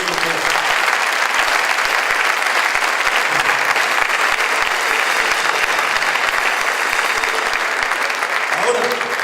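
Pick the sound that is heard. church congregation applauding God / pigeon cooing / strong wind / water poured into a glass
church congregation applauding God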